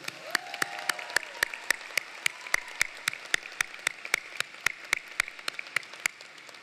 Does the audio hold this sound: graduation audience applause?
yes